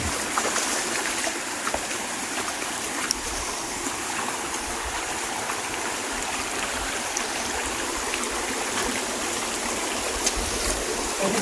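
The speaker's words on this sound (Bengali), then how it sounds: "এই কিউট ঝর্ণা, ওই যে উপরে একটা ছোট ঝর্ণা আছে" A small waterfall and stream in the hills of Bandarban rush in a steady, dense hiss of falling and flowing water, loud and close, with no talk over it.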